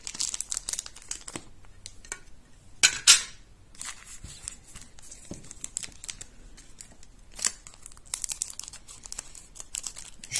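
Pokémon card booster packs are torn open close up, with crinkling foil, short tearing rips and card handling in a quiet room, with louder bursts of ripping scattered among softer rustles.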